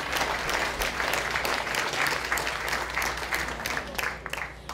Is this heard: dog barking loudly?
no